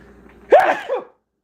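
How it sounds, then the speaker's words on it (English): A single sharp sneeze bursts out after a quiet, breathy lead-in, loud and close, trailing off into a short exhale. "I have to sneeze."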